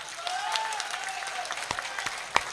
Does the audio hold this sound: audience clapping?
yes